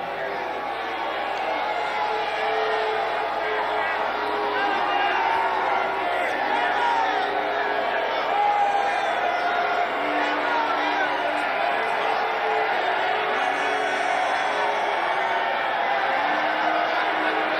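Rowdy rally crowd shouting and jeering as a man is thrown out, a constant dense roar of many voices with scattered whoops, loud and unbroken throughout.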